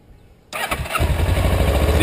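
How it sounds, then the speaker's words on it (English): A motorcycle engine cranks and fires after a brief quiet moment, then settles into a loud, close, steady idle. "Let me turn the bike on."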